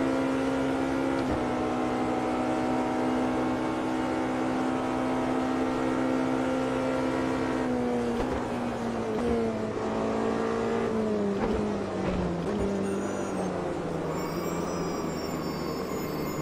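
A race car engine in the Automobilista 2 sim racer, from the Le Mans endurance pack, drones loud and close throughout, its pitch holding high, then dropping and climbing again through gear changes. No one speaks.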